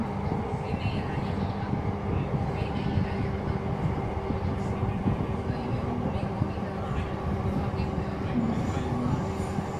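Steady rumbling drone inside a moving light rail train in Palembang, a constant low mechanical hum and rattle with no clear voices.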